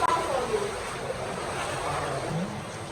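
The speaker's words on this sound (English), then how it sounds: "We are about to see the waterfall. I can hear the sound, yes?" Inside the Awhum cave in Nigeria, the Awhum waterfall gives a steady broadband roar that fills the space evenly, with a person talking over it.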